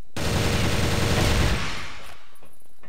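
Rifle spray fired in a video game during a one-on-one rifle match: a dense, continuous burst of loud automatic shots lasting under two seconds, then stopping abruptly with a brief tail.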